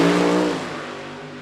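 A funny car races a solo qualifying run down the O'Reilly Auto Parts lane at Mo-Kan Dragway, its loud engine roaring and then fading and dropping in pitch as it pulls away.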